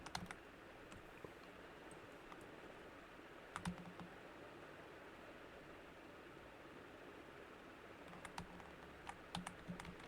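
A computer keyboard is typed on faintly against a steady hiss of background noise, with sparse, scattered keystrokes and a few small clusters of clicks.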